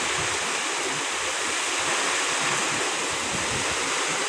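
Typhoon Uwan lashing Albay with strong wind and heavy rain, a loud, dense, continuous roar of rushing air and pouring water that holds steady without a break.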